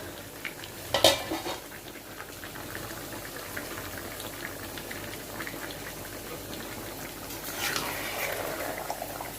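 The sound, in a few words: meat being stirred in a cooking pot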